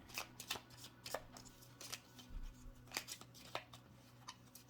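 Tarot cards are shuffled and drawn in a quiet room during a reading, giving a run of crisp riffling snaps and soft slides in uneven bursts, close and faint, with no talking.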